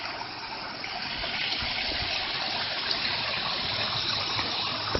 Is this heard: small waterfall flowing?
yes